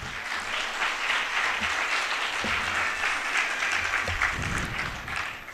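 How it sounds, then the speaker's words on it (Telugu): A church congregation claps together in sustained, dense applause that holds steady and close before tapering slightly at the end. "ఒకసారి చప్పట్లు కొట్టి దేవుని స్తుతిద్దాం"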